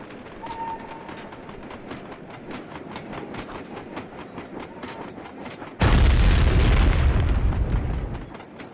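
A train rolls along rails in the Sly 2 video game, a rhythmic clickety-clack that gives way to a sudden loud roaring rush sustained until the end.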